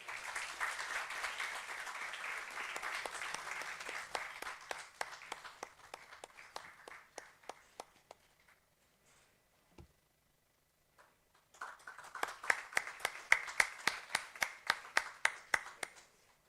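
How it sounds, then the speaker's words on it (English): Applause from the audience at an international craniofacial pathology and biology conference award ceremony, with dense clapping at first that thins to scattered claps, a near-silent pause, then a second burst of sharp, fairly close clapping. "We request the audience to please applause."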